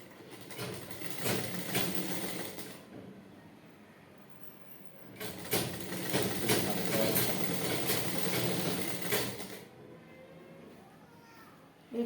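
A sewing machine stitches the lining of a blouse front in two runs of rapid mechanical whirring and clatter, each several seconds long with a quiet pause between them, sounding close by.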